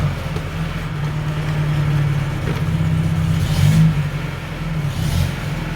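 A Bedford CA van's engine runs steadily at close range, with a low rumbling hum and a slight rise in revs as the gears are tried, plus faint clunks from the gearchange.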